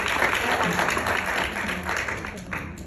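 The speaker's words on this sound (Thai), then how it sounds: "อปรบมือให้กับพี่เกดด้วยค่ะ" An audience applauds after a talk on new legal regulations for business, with dense, steady clapping throughout and a voice speaking briefly over it.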